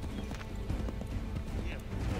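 Horse hooves clopping in the video game Assassin's Creed 3, a loose run of soft thuds and clip-clops at moderate distance over a busy game background, with someone talking over part of it.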